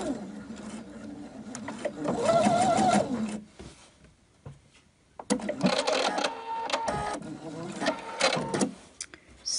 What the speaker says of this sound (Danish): Så har jeg fået syet ned i begge sider og stoppet præcis på det samme punkt.